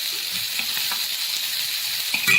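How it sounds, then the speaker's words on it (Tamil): Small onions (shallots) frying in a pan for a yam curry, producing a steady, dense hiss of sizzling oil with a few faint stirring taps, close and continuous. "இந்த சின்ன வெங்காயம் நல்லா செவக்கணும்"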